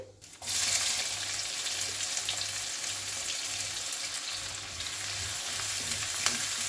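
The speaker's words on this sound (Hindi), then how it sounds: "अब अनियन को हम लाइट गोल्डन ब्राउन होने तक फ्राई करेंगे।" Chopped onions with salt fry in hot oil in a pan, giving a loud, steady, close sizzle with occasional stirring scrapes and no voices.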